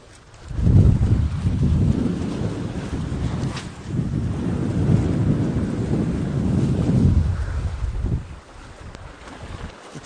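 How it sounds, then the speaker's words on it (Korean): Gusty wind buffets the microphone on the rocky Taean Mado coast during shore lure fishing, a loud, rough low rumble that swells and holds for most of the stretch before easing near the end, with no talking. "아 진짜 바람이 아쉽습니다 바람이 아쉬워요"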